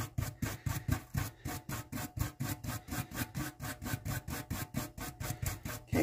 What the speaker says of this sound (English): I'm going to comb those pieces of paint right out of the bristles